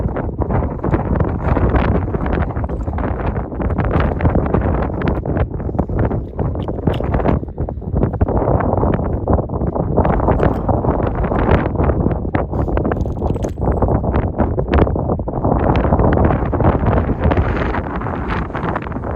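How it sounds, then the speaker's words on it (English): Strong wind roars across an exposed mountain trail in Glacier National Park, buffeting the microphone in loud, continuous gusts for the whole stretch. "In case you couldn't tell, it's really windy up here."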